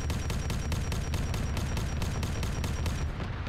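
A vehicle-mounted weapon in a video game emptying its whole magazine, a rapid, evenly spaced stream of gunshots at a steady rhythm that cuts off near the end, loud and unbroken, with no talking.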